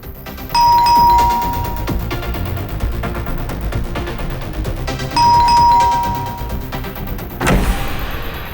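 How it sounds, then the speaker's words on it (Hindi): An electronic two-tone doorbell chimes twice a few seconds apart at a house door, each ring a clear ding-dong over a steady background hum, followed by a sharp thud near the end. "कितना घंटी बजाते हो?"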